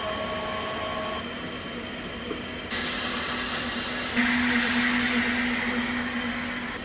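Robofil 240 wire EDM machine running under test after maintenance, a faint steady hum and hiss with tones that step up in layers as further parts switch on.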